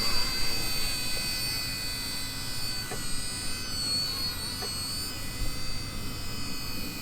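Small RC ERA C032 1/48 scale Huey RC helicopter flying at altitude, giving a continuous high whine over steady wind noise, moderately loud throughout.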